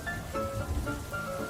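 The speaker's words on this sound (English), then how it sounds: "Peppa looked out the window and saw the rain, water pattering on the roof." Cartoon-style sound effect of rain pattering on a roof, a soft continuous hiss of drops with faint tonal background, steady and close throughout the short stretch.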